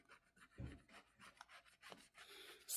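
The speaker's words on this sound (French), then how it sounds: "Je vais gratter la prochaine carte." A coin or fingernail scrapes at one box of a paper scratch card, giving short, soft, dry rasping strokes in an uneven rhythm. The sound is quiet and close, with no voice over it.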